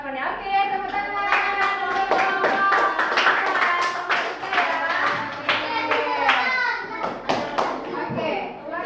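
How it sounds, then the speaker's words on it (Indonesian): A group of children in a classroom claps in sharp, fairly quick rhythmic bursts, with lively kids' voices chattering and singing throughout. "Oke, tepuk tangan."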